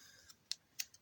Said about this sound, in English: I'm doing this with scissors, by the way